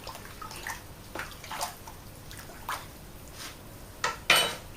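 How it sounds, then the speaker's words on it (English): Seaweed compost tea brew being stirred in a bucket for an allotment vegetable garden, with a few soft watery swishes and splashes, the sharpest one near the end, nearby and fairly quiet. "just put a glug or 2 of that in, give it a bit of a stir around."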